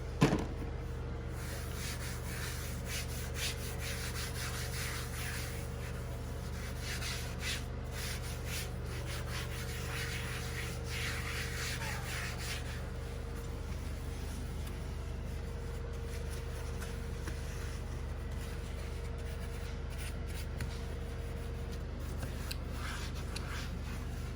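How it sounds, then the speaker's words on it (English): Scrubbing a sink surface while cleaning with Dollar Tree products, a steady, continuous rubbing and scouring sound with rhythmic bursts, close and fairly quiet, with no talking. "Start cleaning, scrubbing areas here."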